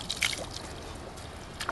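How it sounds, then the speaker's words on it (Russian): Spring water flowing from the ground at a source in South Ossetia: a soft, steady trickle and splash, close but faint, with a few brief brighter splashes near the start and end. "вот течет вода. Вот обычная вода из-под земли"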